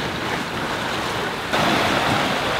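Steady wind and rushing waves around a sailboat under way at about 7.5 knots off Ibiza, a constant broad wash that swells louder halfway through, with no voices.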